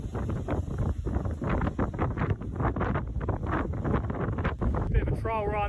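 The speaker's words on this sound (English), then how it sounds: "you might not be able to hear me, the wind's really heavy" Strong coastal wind buffets the microphone in a steady, rumbling roar along the Bournemouth seafront, with someone talking over it throughout.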